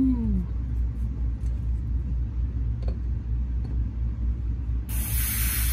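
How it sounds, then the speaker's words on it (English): Air escaping from the valve of an AEA HPSS .25 caliber air pistol as a wrench loosens it: a low steady rumble, then a sudden loud, sustained hiss that bursts in near the end. "Until you hear air come out, just a little bit."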